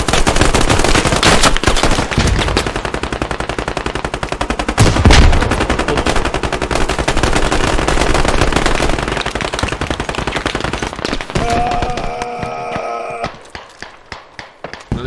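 Dense, rapid automatic gunfire from the military shooter Squad, bursts of machine-gun fire and shots continuing loudly for most of the stretch, thinning near the end into a few sparse distant shots.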